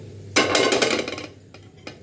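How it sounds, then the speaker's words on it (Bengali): A hand knocks against a frying pan while cooking chillah, a Rajasthani breakfast dish, giving one close metallic clatter that rings briefly and fades. Two small clinks follow. "ফ্রাইং প্যানটাতে হাত লাগলো।"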